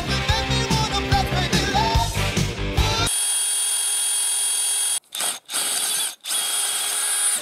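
A hole saw bit cuts through a steel shim plate for a John Deere 450C dozer idler, first with a choppy, rattling bite, then a loud steady whirring drone broken by a few brief stops and restarts.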